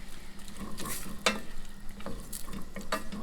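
A spoon stirs jerk turkey gravy in a pot, giving soft scraping strokes and light sloshing over a low, steady sizzle, fairly quiet and close, with no talk.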